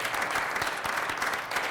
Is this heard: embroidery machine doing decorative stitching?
no